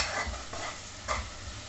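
Spice masala for a Punjabi-style green bean tadka dal, with a little jaggery added, sizzles softly in a pan while being stirred, giving a short, faint fry with a few scraping bursts.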